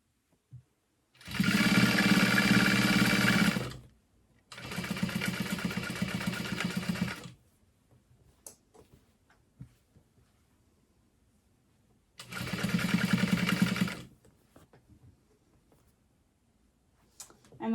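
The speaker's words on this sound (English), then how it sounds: "right now I'm just top stitching through the thickness at the ruffle" A sewing machine top stitches through the thick ruffle of a blanket in three sustained bursts of steady, loud whirring, separated by quiet pauses with faint handling clicks.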